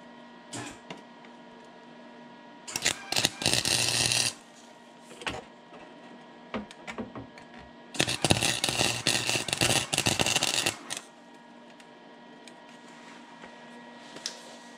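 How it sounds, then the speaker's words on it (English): A MIG welder tack welds a rusty body panel on a 1988 Ford Bronco II in two loud crackling bursts of about one and three seconds, with faint clicks and handling noise between them. "I just want to tack it right there and then I can start messing with it."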